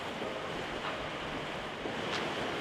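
Ocean surf rolling in at sunrise, a steady wash of breaking waves with broadband hiss throughout, fairly close, with some wind noise on the microphone and no voices.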